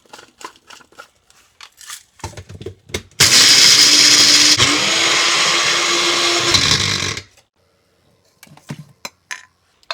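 Mixer grinder whirring as it grinds roasted, cooled chicken masala spices into powder, a loud steady roar of about four seconds, with quiet kitchen knocks before and after.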